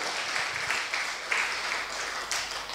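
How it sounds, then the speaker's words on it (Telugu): An audience at a full-moon group meditation session claps together, a soft, steady patter of many hands lasting a couple of seconds, heard somewhat distant and even in level. "ఒకసారి ధ్యానానికి క్లాప్స్ కొడదాం"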